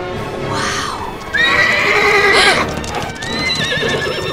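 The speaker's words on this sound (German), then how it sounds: "Vier Wildpferde galoppieren neben dem Zug her." Wild horses gallop alongside a moving train, loud nearby whinnies and neighs rising over a rumbling clatter of hooves.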